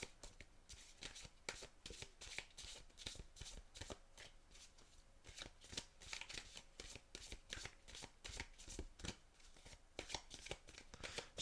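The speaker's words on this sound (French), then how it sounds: "Je les brasse bien parce que comme du coup elles étaient dans l'ordre." Oracle cards shuffled by hand, a steady run of quick riffling, flicking card sounds close up, continuing without a break and with no speech over it.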